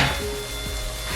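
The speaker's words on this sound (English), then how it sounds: "And so I'm stirring" Abacha being stirred in a pan, a brief burst of scraping and soft clinking against a steady sizzling background, close and moderately loud with no talk.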